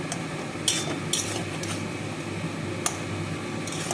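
Soft scraping and occasional sharp utensil clicks against a pan as poppy seed paste is stirred with vegetable stems, over a steady background hiss.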